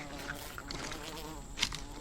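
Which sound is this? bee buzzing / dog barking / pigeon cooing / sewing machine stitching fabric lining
bee buzzing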